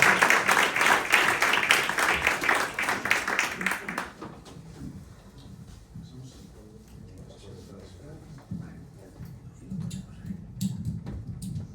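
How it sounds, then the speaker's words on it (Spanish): A lecture audience applauds to welcome a psychiatrist speaker at a conference, giving dense, loud clapping for about four seconds that then stops, followed by quieter room noise, rustling and faint voices. "Recibimos con un aplauso a Luis León y le agradecemos su bienvenida."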